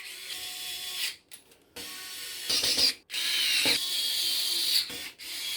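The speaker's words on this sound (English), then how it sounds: "Just put in a screw to hold it in first." An electric screwdriver drives a screw into a CPU cooler during a white gaming PC build with a Gigabyte C301 case, a high whirring in a few short bursts with brief ratcheting clicks between them, close and clear.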